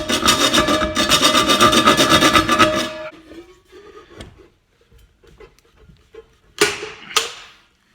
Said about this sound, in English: I'm going to see if I can just cut it.